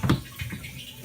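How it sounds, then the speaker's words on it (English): Tap water runs into a saltwater quarantine mixing container, a soft splashing trickle that starts with a brief louder gush and then settles into a quiet, steady flow. "Okay, we got the water started."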